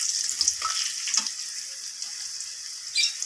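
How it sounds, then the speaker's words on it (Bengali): Carrot pieces frying in hot oil, a constant bright sizzle with a few soft stirring knocks, heard alone and close. "গাজরটাও প্রায় ভাজা হয়ে"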